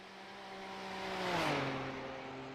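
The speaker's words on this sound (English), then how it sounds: "Just doing that fucking whirring of that differential." The differential of a BMW M4 GT3 in a racing video game whirs at a steady, moderately faint pitch, swelling and dipping as a car sound passes through.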